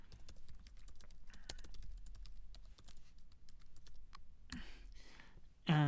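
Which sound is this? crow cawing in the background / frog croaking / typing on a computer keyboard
typing on a computer keyboard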